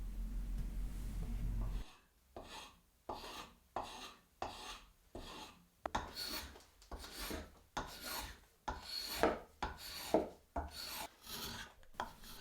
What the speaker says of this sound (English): This is the first time I've used spoke shaves, and it's a really satisfying process, and it's nice to make shavings rather than dust.